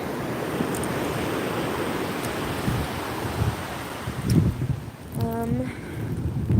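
Ocean surf washing up on a Florida beach as the tide comes in, a steady close wash of waves with some wind noise on the microphone and brief faint sounds near the end.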